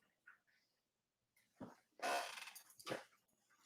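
Dogs give a few faint growls and rough barks indoors, irregular and fairly distant, with a louder burst in the middle.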